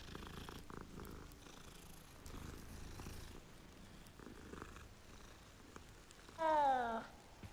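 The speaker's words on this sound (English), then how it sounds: "Let's pet the kitty cat." A cat in the Hogwarts Legacy game purrs steadily at low volume while being petted, with a brief louder mew-like burst near the end.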